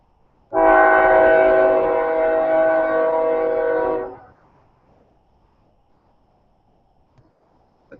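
Roughly half a mile off, a passing train sounds its horn in one loud, sustained multi-note blast lasting about three and a half seconds, then stops, leaving near silence with a few faint clicks.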